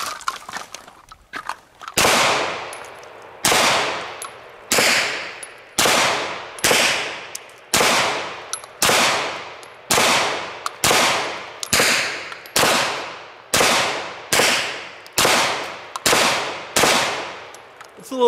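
Taran Tactical Wicked pistol firing at a target, about fourteen loud sharp gunshots at a steady pace roughly one per second, each ringing out briefly, after a few faint clicks at the start.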